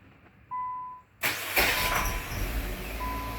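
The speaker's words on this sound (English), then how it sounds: "I'm gonna cut it off and restart the car." A car with a hard-start condition cranks briefly after a short tone, then the engine catches and settles into a steady close idle.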